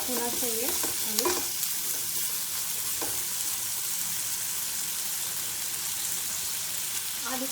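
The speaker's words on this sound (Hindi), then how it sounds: "आलू को हम अच्छे से मिला के इसको पकने देंगे." Potatoes are stirred and fried in a pan with a steady, close hiss of sizzling oil, and a few scraping strokes near the start, with no talk.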